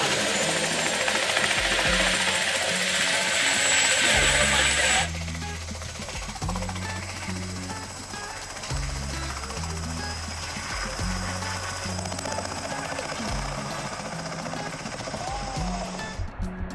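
A helicopter spools up for takeoff near Whistler, its loud, steady engine whine and rapid rotor thumping filling the air, the pitch shifting and easing slightly after a few seconds as it lifts and continues droning.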